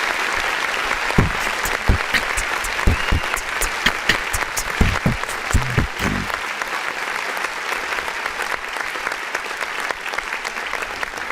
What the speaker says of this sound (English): We're gonna go ahead and press the clap button.